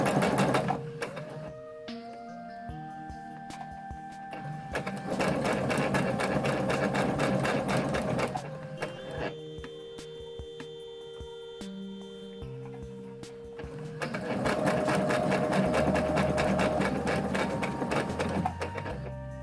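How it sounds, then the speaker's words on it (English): A sewing machine stitches a zipper into fabric in several long bursts, with its rapid mechanical whir pausing and shifting in speed between runs. No one speaks. "and sew a few stitches, and then make sure I lock that stitch in using my back stitch, and I'll sew down."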